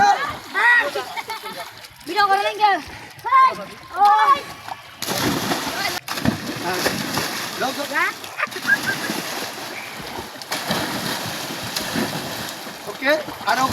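Splashing and sloshing water as people swim in a school pond, continuous and close, with children's voices and shouting over the first few seconds.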